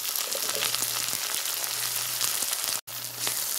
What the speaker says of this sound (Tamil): இப்போ வந்து வெங்காயத்தை போடுங்க